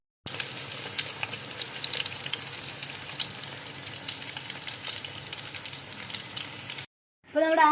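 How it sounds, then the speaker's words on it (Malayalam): Fish frying in a hot pan in a Kerala home kitchen, a steady loud sizzle and crackle running unbroken for several seconds before cutting out, followed by a brief burst of another noise at the end. "പൊരിയട്ടെ."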